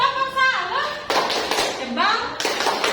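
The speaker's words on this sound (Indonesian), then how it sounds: "kita beri tepuk salut" A primary classroom doing a rhythmic 'tepuk salut' clap: sharp bursts of hand claps in a patterned beat, interleaved with children's chanting voices, close and fairly loud.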